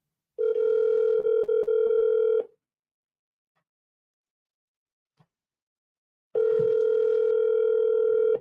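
Telephone dial tone with a burst of DTMF keypad tones during a commercial cold call, a steady tone for about two seconds, a pause of silence, then the tone returning near and loud.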